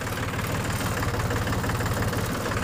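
A tractor engine chugs steadily at low speed while hauling a trailer loaded with rice paddy along a rough field track, with a continuous rhythmic low thrum and a diesel-like knock close by.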